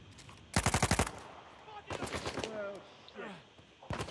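Automatic gunfire in the PS4 game Uncharted 4: A Thief's End, a sharp rapid burst followed by several more rattling volleys at varying loudness, with game voices speaking between them.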